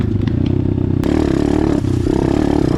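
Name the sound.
riding an Apollo DBX15 Chinese pit bike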